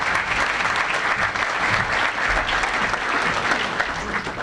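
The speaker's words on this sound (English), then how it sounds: "Round of applause for these young men." A full audience claps steadily for young recruits at a military commitment ceremony, dense sustained applause filling the hall at an even, strong level throughout.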